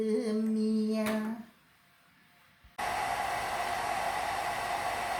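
A hair dryer blowing on wilted flowers switches on after a brief tonal hum and a pause, then roars as a steady, close, loud airy rush.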